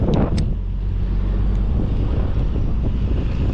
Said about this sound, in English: It's so windy, it's making my eyes water, making my nose run.